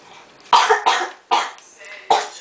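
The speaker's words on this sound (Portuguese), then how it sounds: "eu tô tossindo muito" Four loud, close coughs in quick succession, each a harsh burst with short pauses between, no talking.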